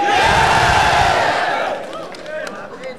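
A FlipTop rap battle crowd in Cebu roars and cheers loudly at once, then the shouting fades over the second half into a quieter murmur.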